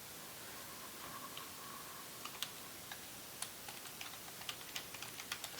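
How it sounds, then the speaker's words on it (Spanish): A name is typed on a computer keyboard, faint sharp key clicks arriving in quick irregular bursts that grow denser toward the end, against a soft room hiss with no talking. "Escribimos el nombre"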